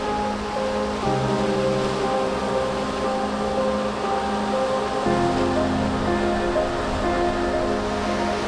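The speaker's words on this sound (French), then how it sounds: "là on est juste au-dessus de la cascade" A mountain waterfall at the entrance to the Cirque d'Estaubé in the Pyrenees roars steadily from just above the falls, a dense continuous rush of water with no voices.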